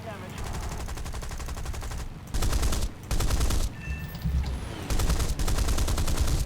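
Long bursts of rapid, heavy British Hispano aircraft cannon fire, several sustained volleys with short pauses between them, loud and close, in the video game War Thunder.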